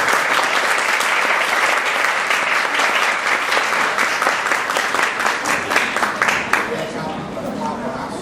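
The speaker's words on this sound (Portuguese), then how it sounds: "Eu chamo para o aplauso de vocês a nossa querida Norma Helena." Audience applause for Norma Helena at a library science lecture, a steady dense roar of many hands clapping that holds loud for several seconds, thinning slightly toward the end.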